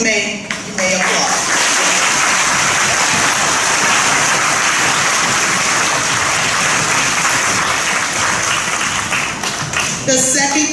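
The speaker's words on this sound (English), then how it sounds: "You may applaud." Sustained applause from an audience at a 40th anniversary ceremony during a candle lighting, a dense steady wash of clapping for about ten seconds, with brief talk at the start and end.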